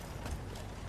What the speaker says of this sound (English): Watch it for the horse.